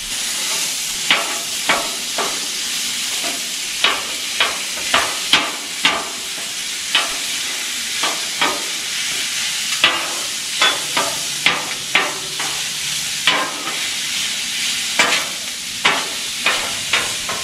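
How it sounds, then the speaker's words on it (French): Ground beef frying in a pan, a constant close sizzle and hiss punctuated by frequent sharp scrapes and taps of a utensil stirring the meat, irregular but steady throughout. "On y va pour notre viande hachée."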